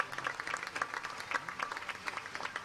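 A church congregation applauds during a Mass, giving a steady, quiet patter of many hands clapping at a distance, with a voice faintly present beneath it.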